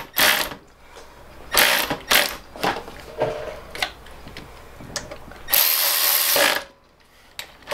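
A 10mm wrench working a bolt on a Predator 212 engine during an electric start kit install, giving loud, close ratcheting clicks and scraping metal bursts in an uneven rhythm, with one longer grinding stretch near the end.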